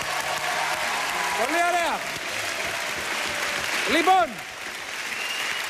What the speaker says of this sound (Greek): Ένα χειροκρότημα για άλλους προσκόπους σε όλη την Ελλάδα.